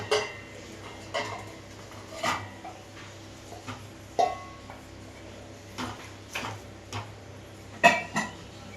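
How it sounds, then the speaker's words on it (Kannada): Cooked rice and moong dal being stirred into tempering in a pot, a series of spaced metal spoon knocks and scrapes against the pot over low background noise. "ಈ ಅಕ್ಕಿ ಮತ್ತು ಹೆಸರು ಬೇಳೆನ ಮಿಕ್ಸ್ ಮಾಡ್ಕೊಳ್ಳೋಣ"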